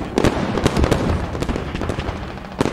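Rapid autocannon fire in SQUAD, a burst of repeated loud, sharp thumping shots in uneven rhythm, close and dense, with echoing battlefield noise between rounds.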